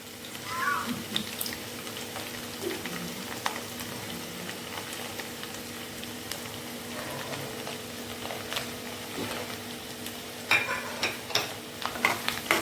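Sliced garlic fries in oil for a fish pickle, a low continuous sizzle with occasional stirring clicks and a faint hum underneath, growing a little busier toward the end, with no voices.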